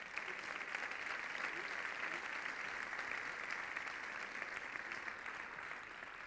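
An audience at a sports awards gala in Alcobendas applauds evenly as the vice mayor is called up, a soft, steady, distant-sounding clapping with voices underneath.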